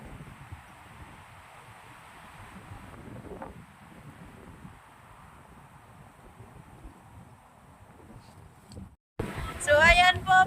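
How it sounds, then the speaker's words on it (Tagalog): Strong wind on a mountain buffets the microphone in a low, continuous rumbling roar that rises and falls. It cuts out briefly before a burst of close talk at the end. "Sobrang hangin."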